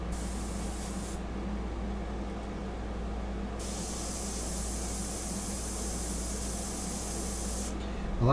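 Steady airbrush spraying ink, hissing continuously with a faint low hum beneath, the airy texture thinning briefly in the middle before returning.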